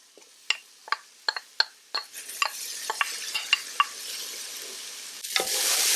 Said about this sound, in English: we're gonna go ahead and throw the onions in. And the peppers.